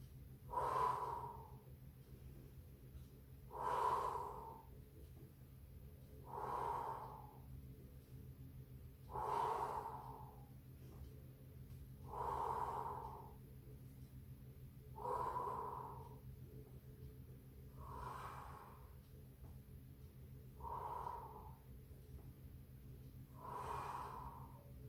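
Slow, deep breaths during a Pilates mat session, about nine rhythmic inhale-exhale cycles roughly every three seconds, close and clear over a steady low background hum, with no talking.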